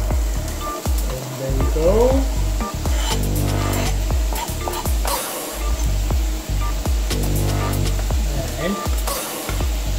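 Onions sautéing in a pan for Punjabi tarka dhal, a loud continuous close sizzle with utensil stirring and scraping, while a person talks over it.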